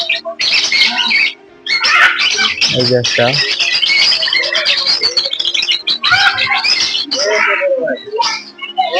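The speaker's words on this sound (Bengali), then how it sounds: "দেখেন এই জায়গায় অনেক পাখি আছে। পাখির বাচ্চা পাখি।" Many birds squawk and chirp noisily in an aviary at Gazipur safari park, overlapping harsh calls close and loud throughout, with a person speaking briefly among them.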